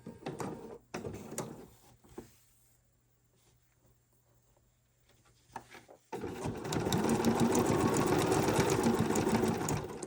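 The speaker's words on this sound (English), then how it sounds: "we're just going to tack this down with a blanket stitch" A sewing machine running a blanket stitch to tack down appliqué on a holiday postcard: a short burst of stitching, a quiet pause, then a long steady run of rapid mechanical stitching close by.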